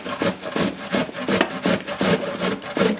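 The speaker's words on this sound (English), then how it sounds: "So I'm just doing it on my nice box grater on the large holes." Cauliflower is rubbed across the large holes of a box grater in quick repeated strokes, a close scratchy rasping with an even back-and-forth rhythm, about eight passes, with no voices.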